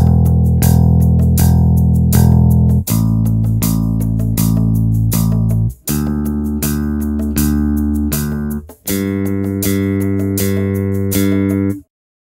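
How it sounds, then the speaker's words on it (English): Bass guitar played with a plectrum, picked notes moving across all four strings in four clear groups of sustained, evenly struck notes, loud and close with no talking. "we're going to play across all 4 strings of the bass"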